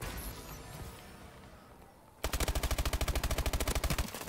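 Automatic gunfire from a weapon in Call of Duty: Advanced Warfare team deathmatch: after a couple of seconds of game ambience, a loud, rapid, evenly spaced burst of about twenty shots fires close up.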